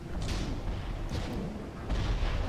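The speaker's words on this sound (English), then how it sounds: "There's an airstrike." Airstrike explosions in the sci-fi shooter Tribes, a run of heavy booms and thuds, the loudest arriving near the end, over a constant low rumble of battle noise.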